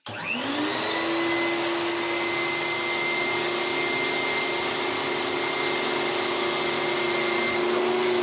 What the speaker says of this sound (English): So we should use the other vacuum